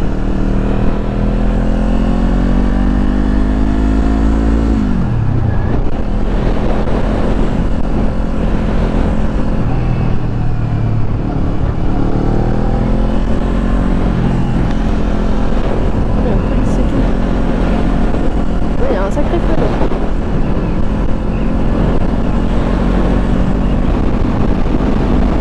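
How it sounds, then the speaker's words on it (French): Motorcycle with a de-baffled exhaust, the engine droning loud and close with rising and falling revs over roughly twenty-five seconds. "Me voilà avec une moto toute fraîche, c'est-à-dire que ce week-end on m'a enfin déchicané le pot"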